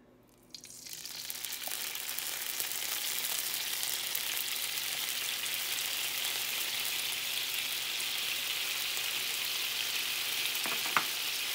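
Birria broth hits a very hot pan with a sudden loud sizzle. The steady frying hiss then holds on its own for about ten seconds, with a faint bubbling crackle and no talk.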